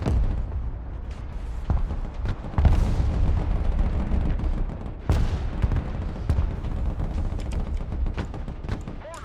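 Repeated artillery and mortar blasts roll through a battle in the video game Broken Arrow, with heavy booming impacts and scattered gunfire under a steady low rumble, and voices talking briefly between shots.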